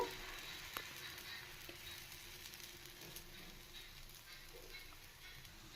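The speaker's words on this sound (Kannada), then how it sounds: "ಈಗ ದೋಸೆ ಹಾಕ್ಕೊಳ್ಳೋಣ. ತವ ಚೆನ್ನಾಗಿ ಕಾಯಲಿ." Ragi dosa batter frying on a hot tawa in a village-style kitchen, giving a steady faint sizzle with soft crackles and a few brief pops, no voices.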